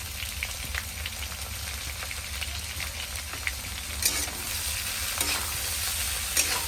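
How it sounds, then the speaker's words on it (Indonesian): Chili slices and salt being stirred in a frying pan, a steady sizzle with scraping stirring strokes throughout and a few louder scrapes near the end. "Diaduk-aduk."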